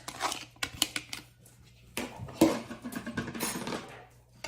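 An onion drops into a pan on a stovetop burner for cooking, bringing soft clattering, scraping and a few sharp clicks of a utensil against the pan, close by and fairly quiet.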